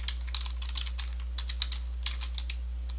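Quick, uneven keystrokes clatter on a computer keyboard while code is typed out, with a steady low electrical hum underneath and no voices.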